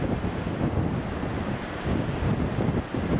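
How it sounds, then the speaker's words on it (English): Blustery wind buffets an outdoor microphone at Newcastle International Airport, a steady, dense low roar with gusty swells throughout and no other distinct sounds. "It's quite blustery today."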